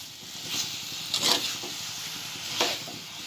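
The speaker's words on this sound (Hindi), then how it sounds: "इसे फिर से चम्मच से हिलाऊंगी" A spoon stirs eggplant curry with kolim dal in a pan, giving a few soft scraping and sloshing strokes over a faint frying sizzle, close and fairly quiet.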